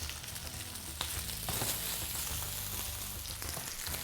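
Potatoes fry steadily in a pan for a Spanish tortilla, giving a continuous close sizzle with occasional stirring scrapes and no voices.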